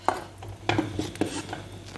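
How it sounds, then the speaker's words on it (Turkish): Ezogelin soup ladled into a serving bowl, with a few soft clinks of a ladle or spoon against the dish and light liquid stirring sounds, close and quiet. "Evet arkadaşlar çorbamı şöyle servis tabağıma aldım"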